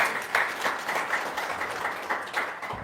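Audience at a religious talk gives a short burst of applause, a moderate, fairly soft patter of many hands clapping for a few seconds.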